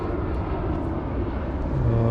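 Airplane descending to land near Ibiza airport, heard from a boat anchored offshore: a steady, loud broadband engine roar with a low tone rising toward the end, no talk.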